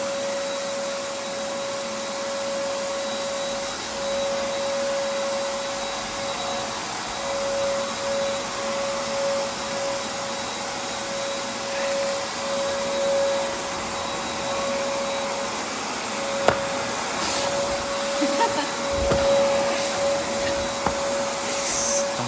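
A vacuum steadily sucks up soaked wax stripper from a floor during a commercial strip-and-wax job, a continuous droning whine with a fixed tone, with brief slurping bursts near the end.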